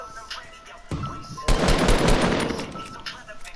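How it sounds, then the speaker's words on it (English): Rapid automatic gunfire in the Fortnite video game, a dense burst of fast shots breaking out after a quieter start and rattling on loudly for about two seconds, with faint voices around it. "Who's shooting at me?"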